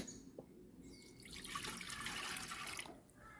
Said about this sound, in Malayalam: കുറച്ച് വെള്ളം ഒഴിച്ചിട്ട്